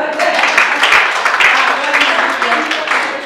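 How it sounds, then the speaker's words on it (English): A church congregation claps during a prophecy service, dense continuous applause with shouts and voices mixed in throughout. "clap for Jesus"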